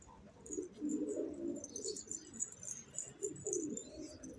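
Pigeons in a loft give off soft, low, continuous cooing, fairly quiet and steady throughout, with faint higher chirps and rustling above it.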